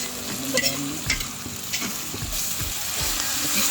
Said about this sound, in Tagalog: Kailangan talaga na halo-halo din sa agad.